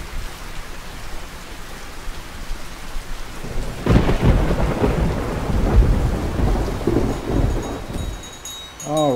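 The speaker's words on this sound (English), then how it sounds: "I did turn the sound up a little bit, see if you can hear me over this thundering and lightning" Steady rain pours in the video game Russian Fishing 4 while a heavy roll of thunder rumbles in near the midpoint and grumbles on, loud and close, with no talking.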